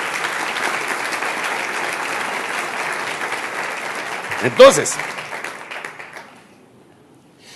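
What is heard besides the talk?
audience applause in church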